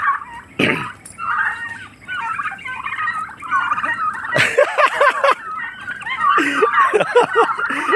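A turkey gobbles loudly and chickens squawk and flap in a fight, with sharp bursts of wing beats and rough cackling. People laugh and chatter nearby.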